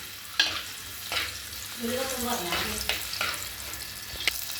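Chopped garlic fries in a pan with a continuous close sizzle, punctuated every second or so by a quick stirring scrape against the metal.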